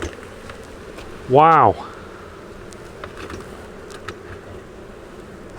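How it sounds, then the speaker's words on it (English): Honey bees pour out of a hive after a swarm returns, making a steady, dense buzz in the background while a voice briefly exclaims over it. "Look at them boiling out of there."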